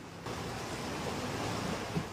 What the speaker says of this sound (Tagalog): Hinagupit naman ang mataas na alon ng baybayin sa Samar.